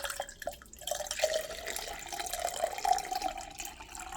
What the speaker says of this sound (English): It's about 2 cups of water. I'm going to pour it in just right